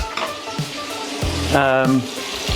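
Steak searing in a hot pan for an Italian steak pizzaiola, a steady close sizzle heard under someone talking.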